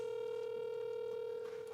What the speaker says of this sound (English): Notice you can hear the phone ringing.